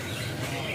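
Small cipol birds chirp continuously in a busy bird kiosk, a dense wash of faint tweets layered over steady background noise.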